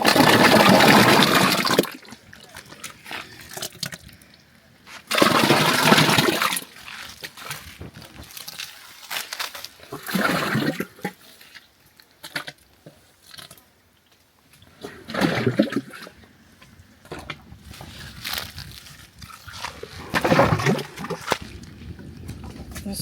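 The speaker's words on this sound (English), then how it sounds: "you see the water is coming out gradually" Water drains from Nigerian cassava fufu dough pressed inside a cloth, coming out in loud gushing, splashing bursts every few seconds with quieter trickling between them.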